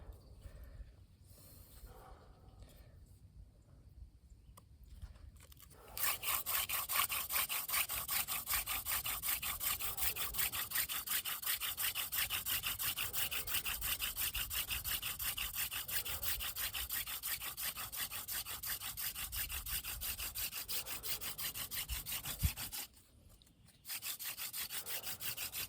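A wooden hand drill spins rapidly against a hearth board for friction fire-making, a harsh rhythmic rasping that starts after a quiet few seconds, runs steadily, then breaks briefly near the end before resuming.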